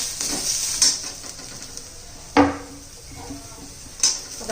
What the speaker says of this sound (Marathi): आता त्याच्यामध्ये आपण लसूण घालून घेऊ आलं घालायचे ते पण चांगलं कांद्याबरोबर परतून घेणार आहोत आपण